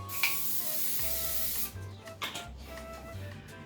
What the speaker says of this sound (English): make sure it's nicely greased before you put it on the pan